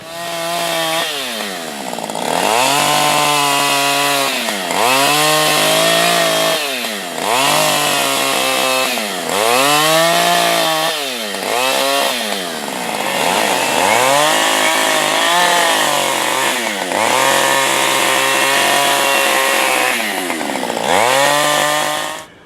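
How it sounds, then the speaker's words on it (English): A chainsaw with a .325 chain roars continuously at close range, its engine pitch dipping and surging repeatedly as it bites into wood, with no voices. "for those chainsaw people out there, it's a .325 bar chain, so it's quite a big chain"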